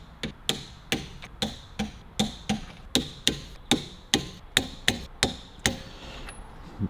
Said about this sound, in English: Always listen to the torque wrench,